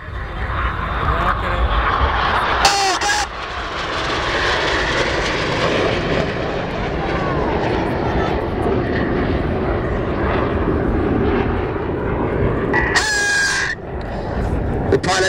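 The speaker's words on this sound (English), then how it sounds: "The pilots go to full power." Red Arrows jets roaring past at full power during an air display, a loud sustained roar that swells and fades, broken by brief bursts of noise, with a commentator's voice over it.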